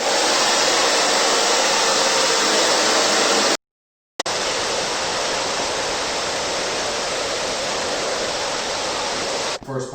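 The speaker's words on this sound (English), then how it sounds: "just heat it up with a hairdryer and it comes off a treat" A hair dryer on high heat blasts steadily at close range while softening skateboard grip tape, giving a constant loud rushing roar that cuts out for about half a second before resuming.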